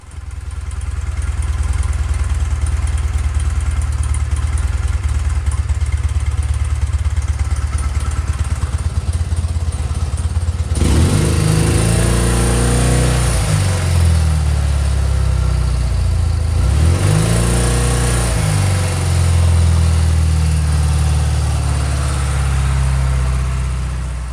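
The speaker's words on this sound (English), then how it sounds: "this next little clip was the engine running and it sounds fantastic" A BMW R100 RT motorcycle engine runs steadily and loudly close by, idling with a throbbing rumble, then revving up twice in rising and falling surges.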